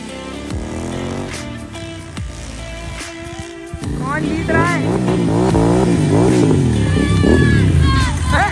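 A 650 cc GT 650 motorcycle and a mini dirt bike in a playful low-speed race, with engines idling and then revving in rising and falling sweeps, close and loud, while people talk over the noise.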